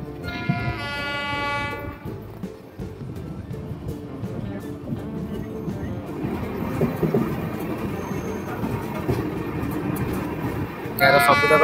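A Vande Bharat train rumbles and rattles past close by, with horn blasts at the start and end over steady wheel and carriage noise, while people talk nearby.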